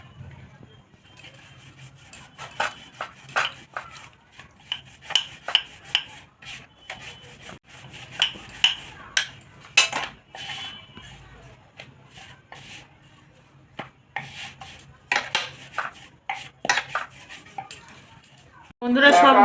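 Flour dough for gujiya being rolled thin with a rolling pin on a board, a series of soft rubbing and knocking strokes in an uneven rhythm, quiet and close, with a louder clatter at the very end.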